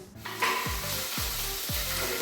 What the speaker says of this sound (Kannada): ಎಲ್ಲ ಒಟ್ಟಿಗೆ ಹಾಕ್ಬಿಡಿ, ಈರುಳ್ಳಿ ಮೆಣಸಿನ್ಕಾಯಿ ಎಲ್ಲನೂ